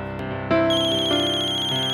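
A mobile phone ringtone plays a bright electronic melody with steady repeating chime notes, fairly loud and close, with no speech over it.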